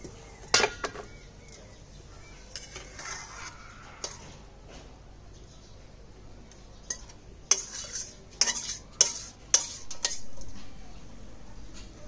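A metal spoon stirring and scraping sojne data chorchori, a Bengali drumstick stalk dish, in a pan, with intermittent clinks and scrapes, sparse early and then a cluster of sharp metallic knocks near the end.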